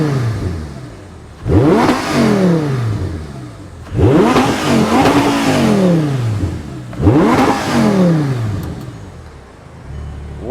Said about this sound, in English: I'm going to give it some revs